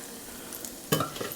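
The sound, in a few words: tofu frying in a deep fryer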